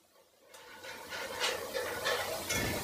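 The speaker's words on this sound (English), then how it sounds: "I'm just going to whisk all these ingredients together until it thickens" Steady whisking of Paleo Chinese sauce ingredients in a bowl until they thicken, a close, continuous scraping swish that starts after a quiet moment and carries on with rhythmic strokes.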